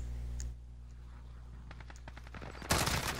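Modern Warfare multiplayer gunfire: a quick string of sharp shots that speeds into a louder rattling burst near the end, heard over a steady low game drone.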